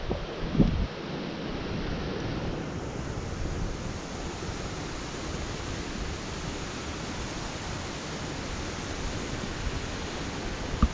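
Water leaking from a valve at the bottom of the Old George Dam makes a steady, broadband rushing roar that holds evenly throughout without pause, with a brief knock near the start.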